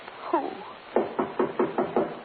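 Knocking on a door: one soft, muffled tap, then a brisk run of five sharp raps in steady rhythm, moderately close in a quiet room.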